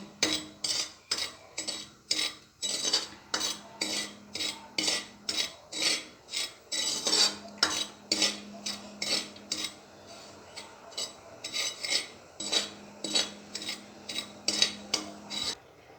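Semolina roasts dry in a pan without ghee while a spoon scrapes and stirs it in a steady rhythm of rasping strokes, about two per second, fairly quiet and close, with no talking.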